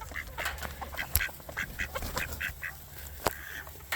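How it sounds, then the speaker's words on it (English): A mallard duck quacks among a flock of chickens, its repeated short nasal quacks coming in quick bursts, near and clear, over faint farmyard bird noise. "you can hear we got chickens and one mallard"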